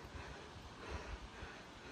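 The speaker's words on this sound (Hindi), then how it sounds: "क्या धूप के साथ साथ इतनी ठंडी हवा चल रही है ना गाइस।" Cold wind blows across a sunny mountain trek near a large landslide, a steady broadband rush with low, buffeting gusts and no voices.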